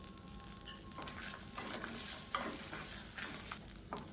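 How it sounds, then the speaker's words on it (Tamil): Grated coconut and curry leaves frying in a pan, a steady soft sizzle broken by several scraping stirs of a spatula, close and quiet with no talk. "இப்போ தேங்காய் எல்லாமே நல்லா வறுபட்டுருச்சு."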